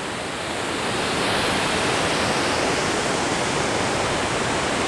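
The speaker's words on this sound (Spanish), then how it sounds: "Ahorita estamos por aquí en esta cascada." A rain-season waterfall in Oaxaca roars as a broad, continuous rush of falling water, loud and steady, swelling slightly after the first second with no voices.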